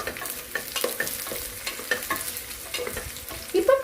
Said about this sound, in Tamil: நல்ல ஒரு கோல்டன் பிரவுன் கலர்ல இந்த ஒரு வெங்காயம் வரணும். அது வரைக்கும் நீங்க ஸ்டவ்ல வச்சுட்டு நல்லா ஃப்ரை பண்ணிட்டு எடுத்துக்கோங்க